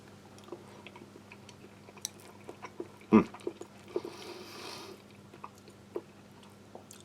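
Close, quiet chewing of a Chinese army Type 13 field ration of soft rice with pork and carrots, soft irregular mouth clicks with one sharper bite sound midway, no talking.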